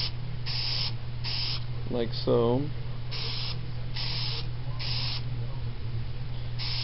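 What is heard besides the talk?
spraying filter oil onto an air filter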